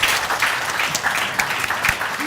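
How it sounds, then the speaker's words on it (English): Audience clapping at a business women's awards event, a steady dense round of applause held at an even level from start to finish. "We can Thank give the you. ladies a round of Thank applause."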